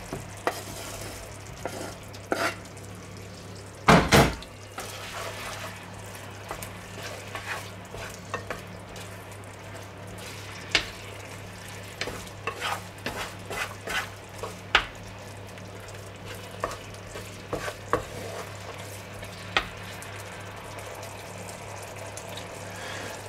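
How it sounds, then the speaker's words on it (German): Bratwurst dropped into a pan of curry sauce, a loud splat and clatter early on, followed by quiet simmering and scattered spoon clicks and stirring scrapes. "Ich schmeiß hier jetzt meine Bratwurst mit rein."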